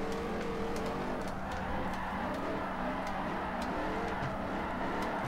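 Chrysler SRT 300C engine roaring steadily while drifting in Forza Motorsport 4, a continuous loud drone with faint tire noise running throughout, no voices.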